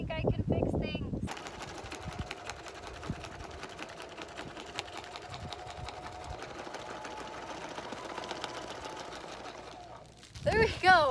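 A sewing machine runs steadily with a fast mechanical whirring and tapping for several seconds; brief voices come just before it starts and after it stops.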